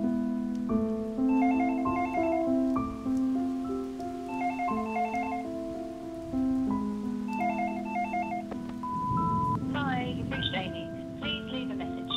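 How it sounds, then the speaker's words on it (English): A telephone rings with a repeating electronic melody in bursts, fairly loud and near, with a louder busy patch of other sound near the end. "Just pick up the fucking phone!"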